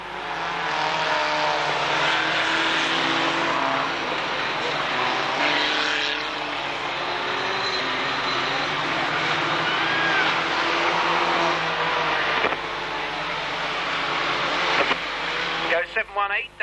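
Race cars, vans at the Braintree Auto Club meeting in 1991, roar steadily past in a continuous loud engine drone, with a commentator talking over it throughout.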